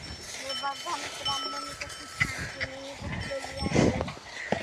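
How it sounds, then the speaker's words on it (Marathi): Working bullocks on a farm move with scattered hoof thuds, rustling and a faint tinkle of bells. The sounds are close and moderately loud under intermittent background noise, with no clear talk. "मस्तपैकी आलेले बैल."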